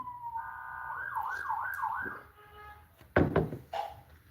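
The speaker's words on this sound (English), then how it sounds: "Sirens are outside." Emergency vehicle sirens sound outside, a warbling wail rising and falling for a couple of seconds before fading, followed by a few sharp knocks and bumps nearby.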